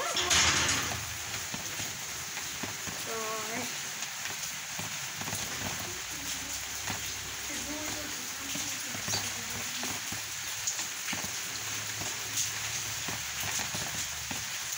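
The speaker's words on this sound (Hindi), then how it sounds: "अभी बारिश भी चालू है" Steady rain falls during an outdoor cobra rescue in Talaja, India, making a continuous broadband hiss and patter that lasts the whole stretch at an even level, with faint scattered sounds underneath.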